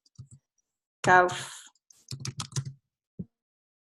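Computer keyboard typing in short bursts of light, dry key clicks, with a brief voiced sound in between and a quick cluster of taps near the end.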